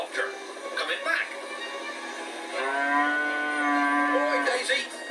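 Cartoon cow lowing in a Budgie the Little Helicopter animated VHS, a long drawn-out moo with rising and falling pitch, preceded by brief voice and animal sounds and clearly audible at moderate loudness.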